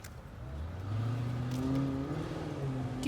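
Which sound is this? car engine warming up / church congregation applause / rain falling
car engine warming up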